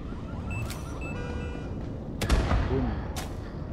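Grenade blast in the PC video game Section 13, a sudden sharp burst partway through over a steady game soundscape with brief electronic tones before it and another short hit after.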